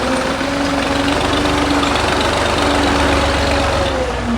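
A tractor engine runs steadily while spreading soft soil in a home courtyard, a loud, continuous close-up drone with a low hum and no voices.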